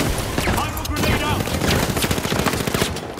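Dense, rapid gunfire crackles nonstop in a loud, busy soundscape from the video game The Finals, with bursts layered over a voice talking underneath.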